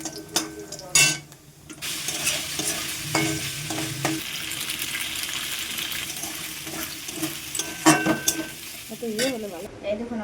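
Pasta cooking in a pan, a continuous sizzle broken by repeated scraping stirs and clanks, with some watery sloshing and a brief voice near the end.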